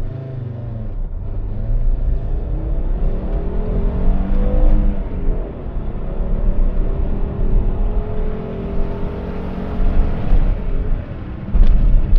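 A Fiat Bravo HGT (Type 182) with a five-cylinder engine that bogs badly accelerates along a straight road, its warbling note rising and falling through the gears, heard close from inside the car.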